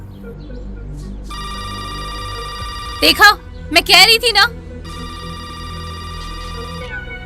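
An electronic telephone rings steadily in repeated tones, loud and close, briefly interrupted by someone speaking over it.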